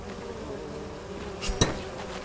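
Bees buzz in the Conan Exiles survival game during a base raid, a steady low insect drone running through the clip with a brief sharp impact near the end.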